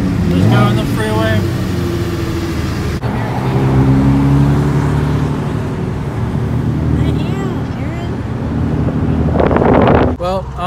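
2019 Chevrolet Camaro ZL1 cruising on a freeway, heard from inside as a loud continuous engine and road rumble with wind buffeting, while people talk over it throughout.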